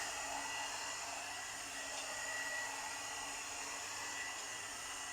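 Premio 3-in-1 blower brush hair dryer running with a steady airy whir and faint motor hum, continuous and fairly quiet throughout, no talking.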